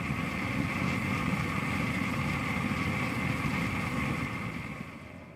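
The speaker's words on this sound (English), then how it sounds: "For these purposes, I use a blow lamp." Blow lamp blowing warm air onto a car engine in the cold, a steady roaring hiss held close and loud throughout, easing slightly at the end.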